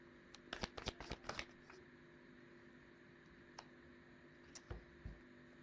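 Tarot cards being shuffled during a reading, a quick cluster of papery riffling clicks followed by a few isolated soft card snaps, quiet and close.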